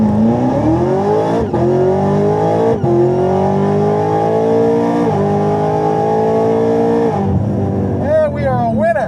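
A race car engine in a video game holds a loud, sustained drone that climbs in pitch through successive gear shifts, with a brief drop between shifts and a short squeal near the end.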